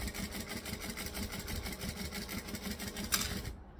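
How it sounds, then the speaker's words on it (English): Sewing machine running steadily while stitching a seam with a back stitch and an eighth-inch seam allowance on a bag; a continuous rapid mechanical whir with a quick bump near the end before it stops. "I'm gonna stitch, back stitch, and I'm gonna do a 1/8 of an inch seam allowance"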